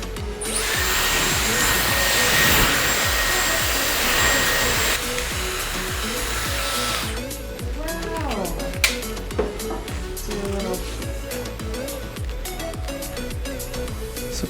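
A Dyson Airwrap hair styler blows air in a loud, steady whoosh for about seven seconds while curling beach waves, then cuts off, and a person talks over a few quieter handling sounds.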